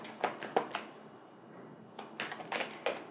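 Tarot cards being shuffled: several quick, soft riffling bursts close by, each a short papery flutter, with brief pauses between them and no talking.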